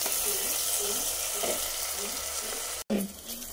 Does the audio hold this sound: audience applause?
no